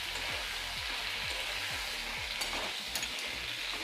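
Potatoes and pointed gourd frying in oil in a pan with a pinch of salt, a steady broad sizzle with a run of low repeated scraping strokes early on, close and alone.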